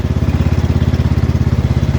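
Cub Cadet XT1 Enduro series garden tractor engine running steadily up close during a ride, a loud, even chugging putter with a fast regular pulse and no speech.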